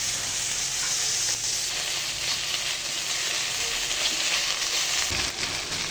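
Neem leaves fry in a little oil with panch phoron, salt and turmeric over a low flame, giving a steady, close, even sizzle that hisses on without pause, with no voices.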